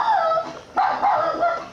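A dog barks and whimpers in a few close, strained bursts, with a short gap partway through.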